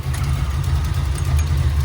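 A car engine idles with a steady, deep rumble, loud and close, with no talking.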